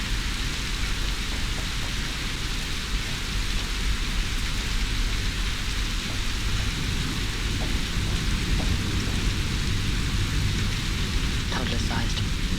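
Steady rain falls in the Phoenix Springs game, a dense continuous hiss with no pauses throughout, accompanied by low rumbling underneath.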